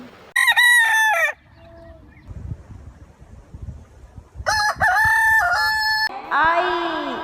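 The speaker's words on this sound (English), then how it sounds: "H for hen." Chickens on a farm give loud, close bursts of squawking and crowing calls, two clusters separated by a quieter stretch of low rustling, ending with a drawn-out cackling call.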